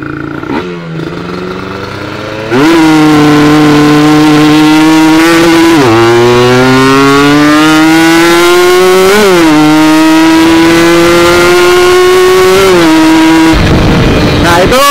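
Kawasaki Ninja motorcycle engine fitted with a TM32 carburetor, revving loud and close in repeated rising sweeps that ease back down each time, running steadily throughout.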